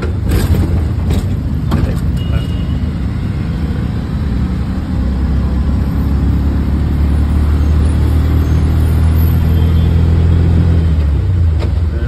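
An auto rickshaw engine drones loudly up close during a bumpy ride on a rough road in Thrissur, a continuous low rumble with rattling jolts and rising revs.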